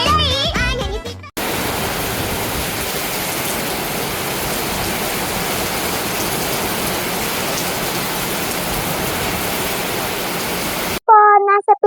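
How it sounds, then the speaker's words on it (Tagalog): Steady, dense rain falls outdoors in the Philippines, a continuous broadband hiss that runs unbroken for about ten seconds, with short bursts of other sound at the start and end. "dito po sa Pilipinas, umuulan po"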